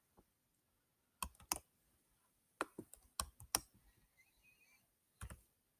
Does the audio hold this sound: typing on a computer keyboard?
yes